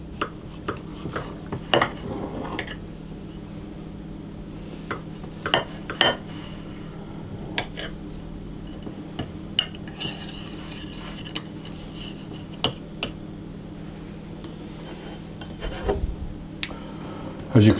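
A knife cuts a slice from a sugar-topped cake, with scattered scrapes and light clinks of cutlery against a plate over a steady low background hum, fairly close and modest in level.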